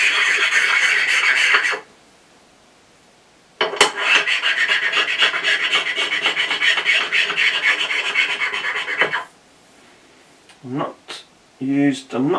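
Rasping rub across the top of a BM16 sliding tab in a circular motion, a loud, close scraping that runs in two long stretches separated by a quiet gap, followed by someone speaking.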